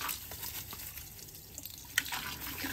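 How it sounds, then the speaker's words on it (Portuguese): Tap water runs steadily into a container, a soft continuous trickle with a few faint drips and splashes. "Tá forte a água."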